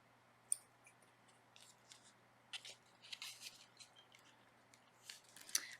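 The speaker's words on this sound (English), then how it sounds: "And then we have a pair of yarn scissors." A pair of yarn scissors for crochet handled quietly at close range, giving a few faint snips and clicks over low background hum, with no one talking.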